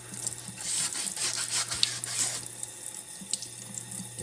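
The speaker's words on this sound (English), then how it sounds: "wet sand it in the kitchen sink. This will wash it all down." Tap water runs into a kitchen sink while carbon parts are wet-sanded, giving a continuous hiss and splash that is stronger at first and then eases slightly. No one talks.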